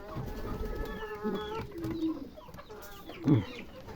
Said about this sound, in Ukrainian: Ось такі в продажі будуть голуби.